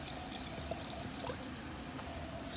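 Water flushes through the drain line of a Goodman air handler in an old cotton mill condo, a steady, close pouring and trickling stream that runs unbroken throughout with no voices.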